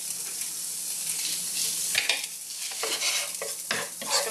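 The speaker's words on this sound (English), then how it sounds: "Let the garlic and ginger go a little bit. Let that get a bit fragrant for a minute." Garlic and ginger fry in a hot pan with a steady, close hiss, broken by a few soft scrapes and stirs toward the end; no one speaks.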